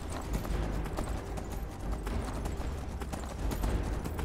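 A horse's hooves clip-clopping in the video game Skyrim, a continuous run of quick hoof beats at a steady gallop pace, moderately quiet and alone with no talk.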